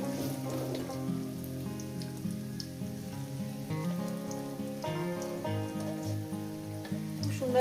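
Onion pakoras frying in a pan of oil, a continuous soft sizzle and crackle sitting beneath louder tonal music that plays throughout.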